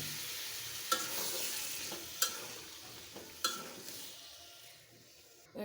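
Cucumber tossed into a pan of prawns with sliced green chillies, sizzling steadily while a utensil stirs and scrapes, with several sharp clinks of metal against the pan. No voices.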